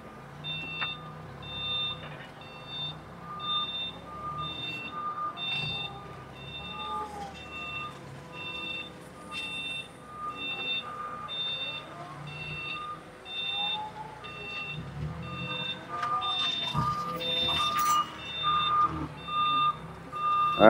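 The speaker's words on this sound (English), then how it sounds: "We also got a reverse horn." A LIFT HERO CPD25 5,000 lb electric forklift sounds its reverse alarm, a steady series of evenly spaced high beeps repeating over a low hum and faint background rumble throughout.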